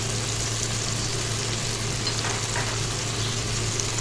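A peeled tomato drops into frying chana dal masala, which keeps up a steady, close sizzle with light stirring.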